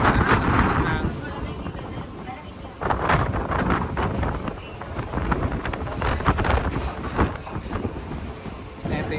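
Wind buffets the microphone on the open upper deck of a ferry crossing from Lucena to Marinduque, a loud broadband rush that gusts and swells throughout while a person speaks over it.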